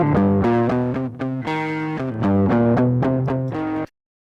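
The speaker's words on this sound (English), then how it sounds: "So there's a lot of changes you can make there to get the distortion that you want." Distortion from the Trash 2 audio plugin applied to a synth or bass line, a gritty buzzing tone in a rhythmic pattern of repeated notes, loud and up close, cutting off abruptly.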